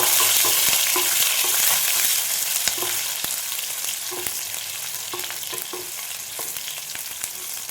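Five or six garlic cloves fry in hot oil for a soya chunks fry. A steady, close sizzle runs throughout, with light spatula taps and scrapes scattered over it and no voices.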